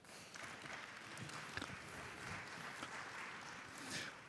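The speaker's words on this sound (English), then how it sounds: "So give yourself a round of applause for that." Faint, distant audience clapping at a Bitcoin conference panel in Vancouver, a soft steady wash of applause that swells slightly near the end.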